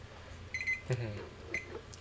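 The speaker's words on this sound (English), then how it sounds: "that's my physical timer" A physical kitchen-style timer rings in short, bright electronic bursts, a few chirps spread across the moment, with a brief voice sound among them in a quiet room.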